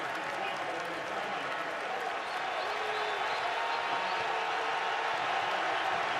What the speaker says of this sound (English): This crowd is getting into the game.